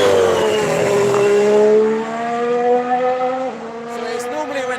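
A Formula E racing car's turbo-like whistle screams down the straight in maximum attack mode, a loud sustained rising and falling tone with engine harmonics that shifts pitch as the car passes.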